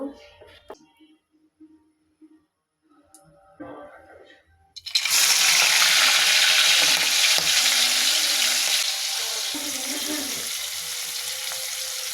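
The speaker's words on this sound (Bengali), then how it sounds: "এখন এগুলোকে ভেজে নেব" A few quiet clanks and shuffles, then a sudden loud burst of sizzling as prawns hit hot oil in a karahi on the stove, frying steadily and fizzing close up.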